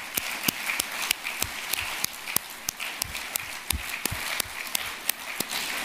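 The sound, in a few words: audience applause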